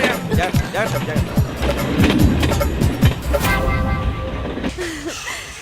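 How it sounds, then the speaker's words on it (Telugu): A passenger train pulls away from a station with a rhythmic clickety-clack of wheels, loud and close, while excited voices shout over it. "అరే సీనిగా ట్రైన్ కదిలిపోయింది"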